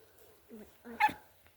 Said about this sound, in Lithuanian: Čia kuriai cypia? Tavo šuo.